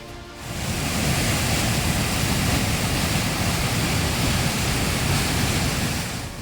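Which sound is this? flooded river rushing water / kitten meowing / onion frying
flooded river rushing water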